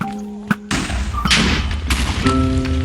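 A Minecraft explosion goes off with a sudden loud thud, then breaks into a broad, crackling rumble of blast noise that keeps rolling for about two seconds over steady game tones.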